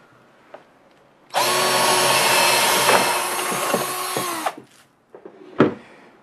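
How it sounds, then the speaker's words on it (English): A power drill bores a hole into a wooden desk while an indoor desktop aquaponics system is being built. The cutting is loud, close and continuous for about three seconds, followed by brief clunks of handling. "using the same drill bit that we used to cut the holes in the first place, I'm going to go ahead and cut a hole right into the desk"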